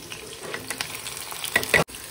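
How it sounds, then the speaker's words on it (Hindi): Onions frying in a pan with mustard seeds, curry leaves and green chillies for an oats dish, a soft steady sizzle with a few stirring scrapes, ending in a brief sharp clatter before cutting out. "ये प्याज अभी भून रहे हैं"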